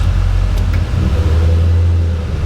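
A car engine idling steadily at close range while the transmission is shifted through reverse, neutral, drive, second and first, giving a continuous low hum with slight shifts in tone and no talk.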